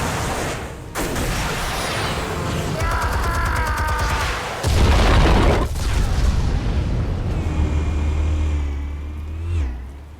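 Explosives detonate in the Batman Telltale Series game, with heavy booming blasts, a sudden loud deep crash midway and a low rumble afterward, all under layered game effects and no clear speech.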